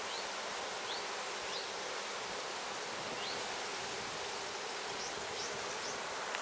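Honeybees hum and buzz on dark hive frames in a steady, even drone, soft and close, with no voices and no break in the sound.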